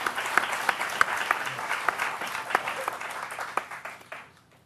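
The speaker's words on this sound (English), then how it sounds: "I think this gentleman deserves a round of applause." Audience applause at a presentation, a moderately distant round of clapping that stays steady and then tapers off toward the end.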